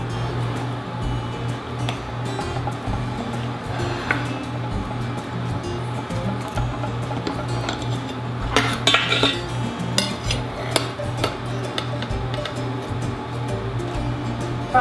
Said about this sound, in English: I think I'm gonna cut a slice